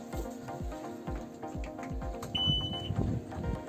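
Warning beep from the engine of a Marin Boat Samba Long 6.20 after the throttle is lowered fully, before starting: a steady electronic beeping with a brief high tone, over background knocks and clatter.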